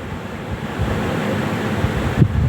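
A kitchen mixer grinder whirs steadily as it grinds coconut, spices and onion into a paste for a chicken masala curry, a dense, continuous roar that swells slightly near the end, with no voices.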